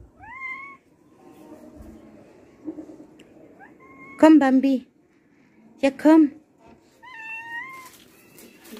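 Cats meowing in a courtyard in Egypt, several distinct high meows spaced across the stretch, some loud and close, while a woman calls softly in German between them.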